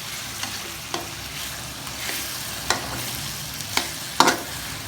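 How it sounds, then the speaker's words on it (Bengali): Sliced onions and potatoes sizzle steadily in a hot pan while a spatula stirs them, producing occasional sharp scraping clinks against the metal over the continuous frying hiss. "আমরা 5-7 থেকে 6-7 মিনিট পেঁয়াজ তারপর আলু এগুলো ভাজছি।"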